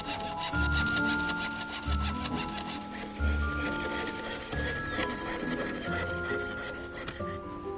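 Hand sawing through metal on an 18th-century French clock under restoration: steady back-and-forth rasping strokes, close and continuous, with a faint ringing tone and no voices.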